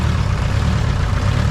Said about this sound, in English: we're letting the car run to pump the gas out of the car into the tank